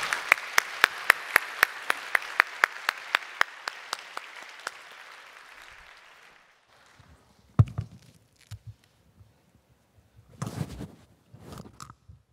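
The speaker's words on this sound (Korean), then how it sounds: "우리 나오실 때에 우리 박수로 환영해 주시기를 바랍니다" A church congregation claps in a steady, even rhythm that fades out after about five seconds, followed by quiet room shuffles and thumps as someone comes forward.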